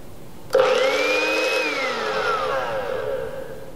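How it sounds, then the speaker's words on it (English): A kitchen blender purees a salmon dressing with a touch of honey. It kicks on abruptly, and its loud whir climbs in pitch, then slowly sags as the mixture thickens, close by with no voices. "And now I'm going to blend it all together."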